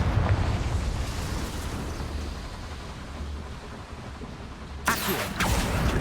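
A Confringo fire spell bursts in a small mine in Hogwarts Legacy, a sudden loud blast with a broad crackling tail arriving near the end after steady low rumbling ambience.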